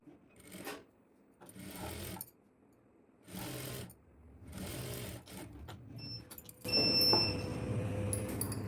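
A sewing machine stitches a strip on a plain blouse in several short bursts, then runs in a longer stretch with light rattling, close and fairly quiet, with no talking.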